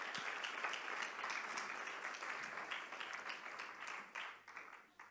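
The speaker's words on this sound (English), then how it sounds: "Please give Sister Helen and her team a lovely round of applause again." Audience applause at a birthday celebration, sustained dense clapping from a crowd that carries on for several seconds, fairly distant and even in level before tapering slightly at the end.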